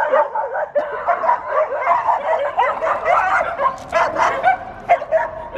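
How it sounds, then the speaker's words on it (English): Several puppies and dogs yip, bark and whimper close by in quick, overlapping bursts that run on without a break. "What about this little puppy?"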